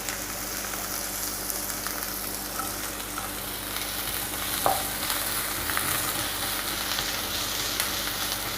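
Chopped onion and garlic frying in a pan, a steady close sizzle with occasional stirring scrapes and no talk.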